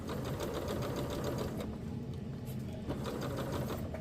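A home sewing machine runs steadily, stitching fabric for a lounge wear top after a switch away from cheap thread, with a dense continuous motor whir and rapid needle clatter throughout, close and fairly loud.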